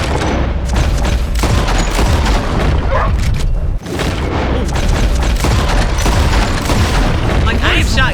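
Gunshots in Red Dead Redemption 2, loud sharp cracks repeating through a dense, busy game soundscape with booming reports and ambient noise, voices talking over the action.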